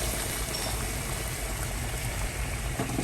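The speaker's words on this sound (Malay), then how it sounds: "lepas tu kita masukkan air panas I put in boiling water" Steady rushing pour of about a liter of boiling water into a pot for spiced chicken soup, continuous and close, with a broad hissing splash throughout and no pauses.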